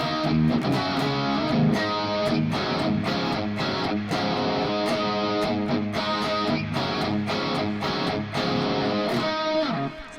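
A distorted electric guitar plays a riff, with punchy rhythmic chords and quick single-note runs repeating steadily, loud, with no talking.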